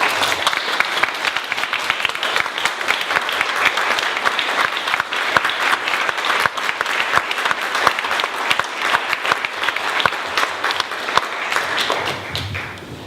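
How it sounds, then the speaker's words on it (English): A dense round of audience applause at an annual meeting, honoring longtime staff members, fills the room steadily and continuously, then begins to thin out at the very end. "Would you please give all of them a round of applause?"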